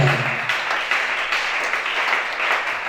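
A church congregation at a worship service applauds in a dense, continuous wash of clapping that stays steady throughout.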